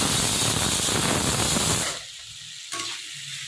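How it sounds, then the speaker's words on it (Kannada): Raw banana pieces frying in a pan, a loud crackling sizzle that drops off sharply partway through to a quieter hiss, followed by a brief clink. "ಈಗ ಬಾಳೆಕಾಯಿನ ಫ್ರೈ ಮಾಡ್ಕೊಳ್ಳೋಣ"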